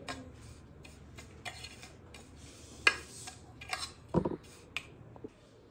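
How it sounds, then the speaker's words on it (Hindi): Spices being mixed into green chilies for an instant hari mirch pickle, a spoon clinking and scraping against a bowl in scattered taps and clacks, close and quiet, with no voices. "अब इन सारे मसालों को हम अच्छी तरह से मिक्स कर देते हैं आपस में"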